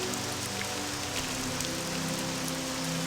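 Rain falls steadily in the video game Morrowind near the town of Balmora, an even, hissing patter of drops on surfaces that continues unbroken at moderate volume with no talking over it.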